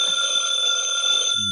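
Ringing of a telephone bell in a classic detective radio drama, a steady continuous electric ring heard close and clear, alone before a low sound enters at the very end.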